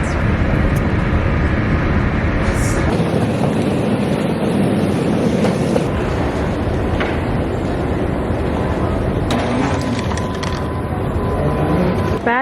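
An airport train rolls toward Oslo airport with a continuous rumbling ride noise inside the carriage, brief clunks and hisses over the steady roar.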